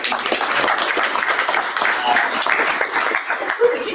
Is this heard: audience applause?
yes